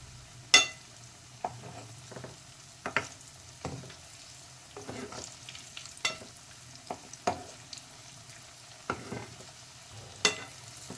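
Cutlet mixture sautéing in a pan, soft background sizzle broken by a dozen sharp spatula taps and scrapes at uneven intervals, close and moderately loud.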